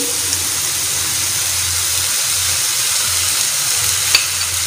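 Onions sizzle and fry steadily in a pan on a hot tawa while spicy keema is made, with a continuous broad hiss, a low rumbling undertone and one brief clink near the end, with no talking.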